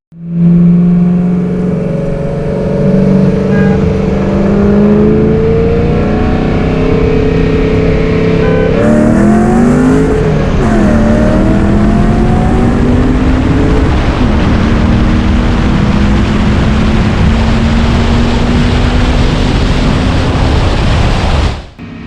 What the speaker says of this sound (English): once I shift into third, the Viper starts walking the Mustang like it's no big deal